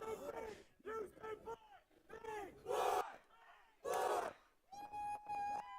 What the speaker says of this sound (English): You hear the crowd chanting for Etienne, the big boy, as they like to call him